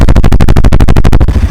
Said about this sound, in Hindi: ये आपका 160 का एग्जॉस्ट साउंड सुनिए,